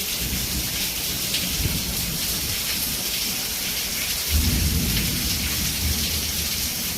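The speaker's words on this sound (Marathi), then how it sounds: "कसं गरजतंय बघा" Heavy monsoon rain pours in a steady, dense hiss while a deep rumble of thunder swells in the low end partway through, with no talking.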